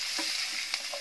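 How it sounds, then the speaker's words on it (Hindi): Capsicum stir-fried in a pan for mushroom fried rice, a steady close sizzle broken by a few soft scraping stirs of the spatula, with no voices. "अब इसमें कैप्सिकम डाल देंगे, मिक्स करेंगे अच्छे से और इसे भी 1 मिनट तक पकाएंगे।"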